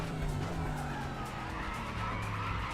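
Tyres skid and squeal in a sustained screech from a race car in the RaceRoom racing game, with the engine droning steadily underneath.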